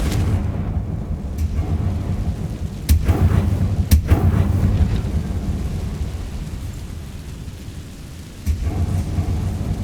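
Confringo fire spell blasts in Hogwarts Legacy, two sharp booming bursts over a steady low rumble of game ambience, with a further thump near the end.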